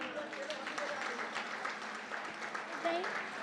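Steady applause from a crowd at a Hindi poetry recital fills the space, a continuous wash of clapping with a few faint voices mixed underneath.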